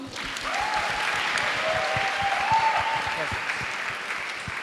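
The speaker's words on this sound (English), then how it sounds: "A huge round of applause for him." Sustained applause from a student and alumni audience at a university meetup, greeting a volunteer called on stage; dense, steady clapping fills the room with a few faint tonal sounds riding over it.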